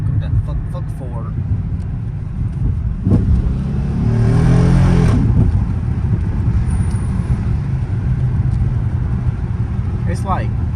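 Dodge Charger R/T engine and exhaust rumbling steadily while driving through traffic, with a brief rise in revs midway; someone talks over the car throughout.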